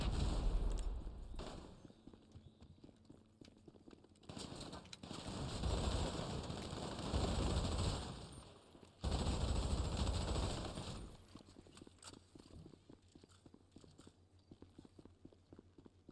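Grenade explosions and gunfire in GTA Online, with several loud bursts of blasts and rapid shots in blocks separated by quieter gaps, then sparse, fainter popping toward the end.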